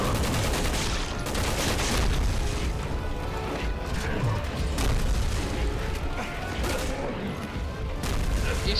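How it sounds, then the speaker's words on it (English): Rapid gunfire and heavy impacts from the Resident Evil 6 demo, loud and dense throughout with repeated sharp bursts over a constant rumbling mix. "Shoot the big pulsating red thing"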